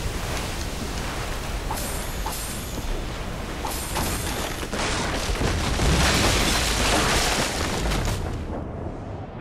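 Ship cannons firing in Assassin's Creed Rogue, a series of heavy booms over rushing sea and wind noise, several blasts spread through the stretch with a denser volley in the middle.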